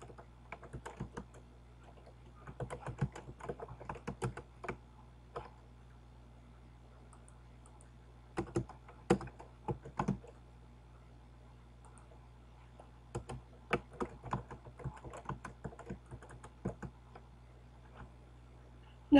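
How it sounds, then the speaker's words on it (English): Keys clatter on a computer keyboard in quiet bursts of quick typing separated by pauses, close and clear over a low steady hum. "Just type it in."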